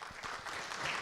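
Short burst of audience applause at a water safety summit, a room of people clapping steadily for about a second with no pause.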